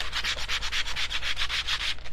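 A pumpkin decoration is sanded for a rustic look, quick back-and-forth rasping strokes in a steady rhythm, close and clear with no talk.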